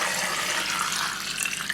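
Plain water pouring into a pot of raw mangoes (keri), a steady, close, rushing splash that runs without a break and without any talking.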